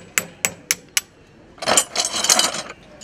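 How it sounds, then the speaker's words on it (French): Four sharp, evenly spaced hammer blows drive nails down on a rope-soled shoe, followed by a louder stretch of rough scraping and clattering work noise, all close by with no talk. "Là on va rabattre les clous et les couper à 145 mm."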